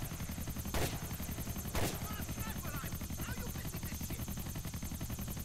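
Rapid bursts of automatic gunfire in GTA: The Ballad of Gay Tony crackle steadily over a loud whirring helicopter-like drone, with two sharper blasts standing out near the start.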